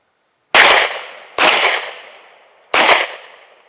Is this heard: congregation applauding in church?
no